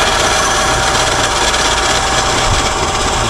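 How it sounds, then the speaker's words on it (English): A bandsaw cuts guitar pickguard material with a loud, steady, rasping buzz that continues unbroken through the short stretch. "We're going to use the bandsaw to cut this out"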